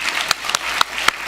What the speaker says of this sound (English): So please give yourself a round of applause right now.